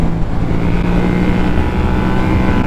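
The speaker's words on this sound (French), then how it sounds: "Attention voiture." A car passes close by on a mountain road, heard from a Yamaha MT-07 motorcycle, a loud steady roar of engine and wind with low rumble throughout, no voices.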